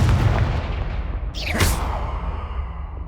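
Confringo blast spell cast in Hogwarts Legacy, a sharp whooshing crack about midway through with a fiery burst, set over a steady loud rumble of battle ambience.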